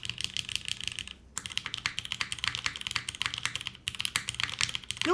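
Rapid, continuous typing on a mechanical keyboard with lubed and filmed Nixie switches, 62.5 gram springs, Cherry clip-in stabilizers and GMK keycaps on an aluminum plate in a top-mount case, close and clacky, with one brief pause.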